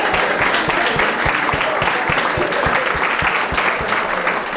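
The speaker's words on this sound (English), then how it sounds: "Let's give him another warm round of applause." A church-style celebration audience applauds together in a dense, steady wash of clapping that stays loud and even throughout.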